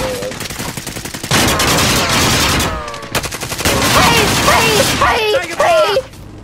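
Warzone gunfire rattles in loud, rapid automatic bursts, close and continuous, with excited voices talking and shouting over it.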